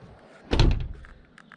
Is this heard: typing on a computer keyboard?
no